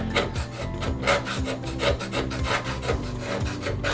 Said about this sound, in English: I'm going to use my scraper tool, and I'm going to just kind of scrape